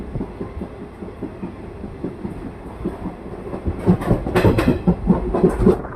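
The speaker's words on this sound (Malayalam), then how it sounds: "ബറൂണി രപ്തിസാഗർ എക്സ്പ്രസ് ആണ് ഇപ്പോൾ കടന്നുപോയത്" The Barauni Raptisagar Express passes close by with a rhythmic clickety-clack of wheels on rail joints. The rumble builds and grows louder toward the end.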